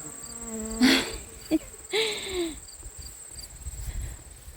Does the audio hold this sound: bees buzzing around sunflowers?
yes